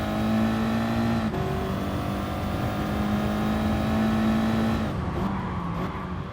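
Audi TT race car engine in Gran Turismo Sport, starting from pole on the Sardegna circuit: a steady, loud engine drone holding high revs, with a brief shift in pitch partway through and a dip near the end.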